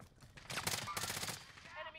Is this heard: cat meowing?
no